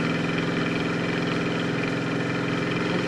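A 1971 Plymouth Road Runner idles through dual exhaust with mufflers and machine gun tips, giving a steady, close, rhythmic burble that holds constant for a few seconds with no voices.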